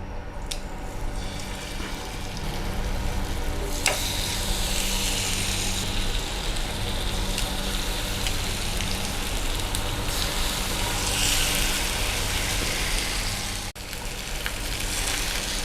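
Marinated chicken pieces for barbecue-style chicken sizzle in a little oil in a pan on the stove, a loud, continuous close-up crackle with small pops and one sharp click near the end.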